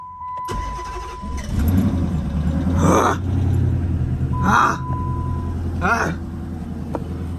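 A 5.7 Hemi engine with a stage 2 cam starts up, then settles into a loud, lumpy idle with a deep rumble. A few brief revving surges and short beeps break in, and people talk nearby.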